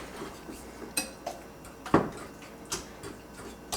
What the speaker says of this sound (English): just give it a good hard shake